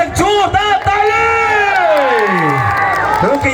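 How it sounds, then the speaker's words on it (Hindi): A stage event audience in Nepal cheering loudly, with shouting, whoops and children's voices rising in long sweeping calls over applause, loud and close throughout. "प्लिज उहाँको लागि एकपटक जोरदार ताली"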